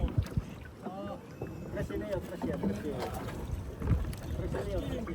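A small bangka motorboat travelling toward Dolores, its engine and water noise running steadily with wind buffeting the microphone, while people talk over it throughout.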